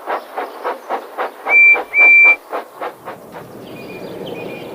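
A steam engine puffs in a steady rhythmic chuff, broken by two short sharp whistle blasts, then settles into a continuous hiss.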